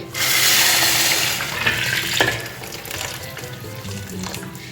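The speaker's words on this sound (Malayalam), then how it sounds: "ചൂടുവെള്ളം ഇതിലോട്ട് ഒഴിക്കുക" Hot water is poured into a pot of cooking lentils for parippu pradhaman, a Kerala sweet dish. A loud splashing rush comes first, then it eases into a softer sizzle and bubbling.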